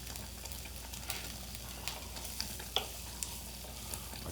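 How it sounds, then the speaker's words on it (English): Vegetables, asparagus among them, sauteing in a hot pan give off a soft, steady sizzle with a few faint clicks and pops, heard quietly and close with no talking. "I can hear my vegetables and everything sauteing really nicely now"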